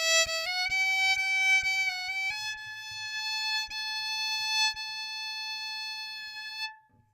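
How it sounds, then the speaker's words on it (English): Single violin bowed steadily on the strings, sustaining a few clear notes that step upward then hold one long tone, alone and close, fading out at the end. "the bow being pulled along the strings creates friction"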